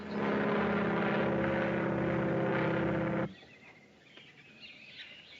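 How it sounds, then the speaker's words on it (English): A propeller airplane passes overhead in a 1938 film scene, a loud, steady droning roar for about three seconds before it cuts away to quiet background. "That won't hurt you. It's only an airplane."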